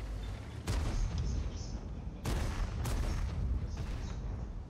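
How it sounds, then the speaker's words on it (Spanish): Heavy tank cannon shots in a World of Tanks battle involving an IS-6 and a Conqueror, three or four booming blasts spaced a second or so apart over continuous rumbling engine and battlefield noise. "Estamos intercambiando tiros con un Conqueror"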